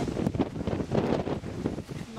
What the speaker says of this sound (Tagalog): Max ng hangin.